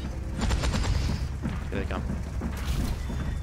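Widowmaker sniper rifle fire in Overwatch 2 pops in a busy match, with sharp shots and impacts mixed into game effects and voices.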